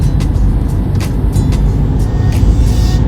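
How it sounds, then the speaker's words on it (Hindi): Road traffic with trucks jostling for space on a busy highway during a commute, a continuous loud engine rumble with passing vehicles and occasional brief higher hiss or horn-like swells over the top. "ये ट्रक वाले कैसे लड़ रहे हैं यार"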